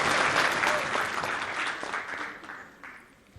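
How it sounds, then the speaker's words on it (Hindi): A studio audience claps loudly to welcome Punjab Chief Minister Bhagwant Mann onto an India TV election debate stage, dense steady applause that gradually thins and fades over a few seconds. "प्लीज जोरदार तालियों से स्वागत करें।"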